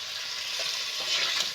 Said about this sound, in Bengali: সুন্দর মতো করে কষিয়ে নেব।